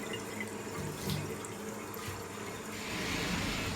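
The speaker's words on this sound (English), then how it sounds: "This little nozzle here is supposed to let out a certain percentage of water" Water runs steadily from a small nozzle into a tank, a continuous hissing flow that swells slightly louder near the end, with no talk over it.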